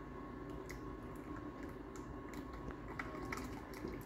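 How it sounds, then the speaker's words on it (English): Vinegar poured steadily from a tablespoon into a mixture, a faint continuous liquid trickle with soft drips and squishy splashes, low and close amid quiet background hum. "just gonna keep pouring it in."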